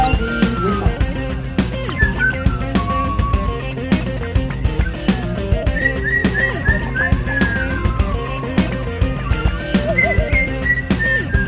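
A parrot performing at a bird show at African Lion Safari in Canada whistles a made-up tune, clear rising and falling notes over a steady rhythmic backing beat, loud and close.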